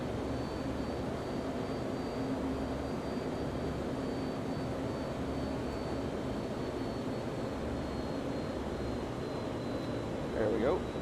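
A steady, continuous F-14 jet engine drone in Microsoft Flight Simulator 2020 runs evenly throughout, with low talk faintly present beneath it.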